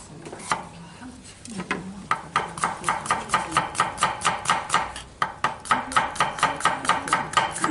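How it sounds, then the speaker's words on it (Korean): Onion being cut into thin strips with a knife on a board, a steady run of quick, crisp chopping taps that speeds into an even rhythm, close and clear. "양파는 이렇게 해서 양파 채 썰어줄게요."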